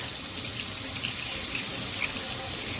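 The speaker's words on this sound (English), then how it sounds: "once I get it good and good and washed, I'm gonna rinse it out. So now I'm just gonna rinse." Makeup brushes rinsed under a running tap at a sink, a steady, close hiss of flowing water with no break and no talk.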